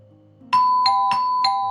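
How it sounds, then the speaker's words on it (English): A video game doorbell in Luke Entwining Hearts plays a clean two-note ding-dong twice in quick succession, bright and close, against a quiet background with no speech. "The doorbell rings again."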